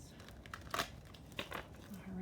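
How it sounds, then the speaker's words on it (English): Oracle cards being shuffled by hand, a few quiet papery riffles and crinkles in brief bursts, close and soft. "Let me get a few shuffles in."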